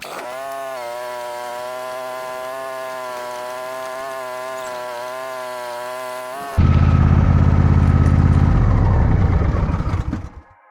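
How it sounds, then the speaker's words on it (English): A tractor engine runs outdoors in wind while hauling blocks, first a steady droning hum, then a sudden louder, rougher roar that holds for several seconds before fading away. "Got me blocks in me trusty tractor."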